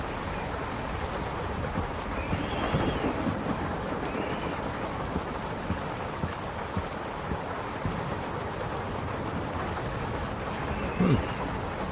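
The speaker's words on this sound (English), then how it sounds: "it feels like the storm is picking up" Thunderstorm with steady rain, a dense continuous hiss with low rumbling swells of thunder rising and fading across the stretch, fairly faint and heard as a constant bed without clear speech.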